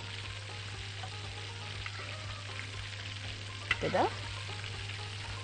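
A fruit pancake frying in a nonstick pan gives a steady soft sizzle throughout, with a brief scrape as it is flipped near the end and a voice speaking briefly.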